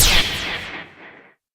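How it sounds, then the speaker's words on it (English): A single bright zapping laser blast with a sharp attack, trailing off into a fading, descending hiss within about a second. "I'm going to add the laser sound"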